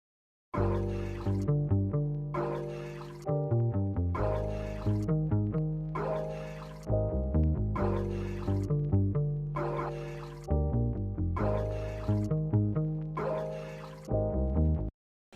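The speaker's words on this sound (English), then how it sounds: "Then from the same pack I got this bass loop as well" A bass loop from a sample pack, processed with compression and saturation drive for a beefier tone, plays alone as a steady repeating pattern of punchy, sustained low notes, loud and close.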